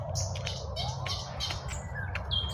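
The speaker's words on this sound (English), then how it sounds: "More birds singing in the middle of the day." Birds chirping and tweeting in a park at three in the afternoon, with scattered short calls at moderate distance over a steady low background rumble.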